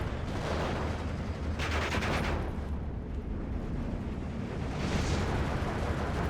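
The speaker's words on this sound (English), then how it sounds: "Mortar rounds landing." Mortar rounds slam down in the Steel Division 2 World War II strategy game, a loud, dense roar of blasts and gunfire with heavier bursts rising out of the continuous battle din.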